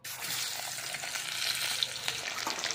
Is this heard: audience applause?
no